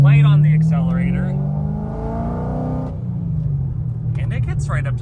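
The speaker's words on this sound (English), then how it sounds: "Initial driving impressions of the full bolt-on and cammed C6 Corvette." Full bolt-on, cammed C6 Corvette with an LS3 V8 accelerating, a loud rising engine note climbing through the revs, dropping at a shift, then building again, close and dominant.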